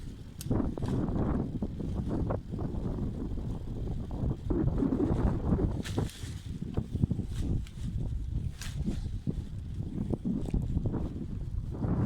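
Wind gusting outdoors at the Kovalık area near Şarköy, a steady rumbling buffet across the microphone with scattered thumps and movement noises throughout.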